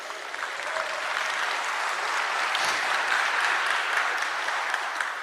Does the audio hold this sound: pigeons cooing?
no